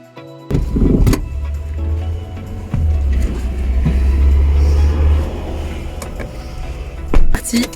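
A car pulling away slowly with its trunk open and loaded with heavy floor tiles, a close low engine rumble that swells as it moves off, framed by door and body clunks.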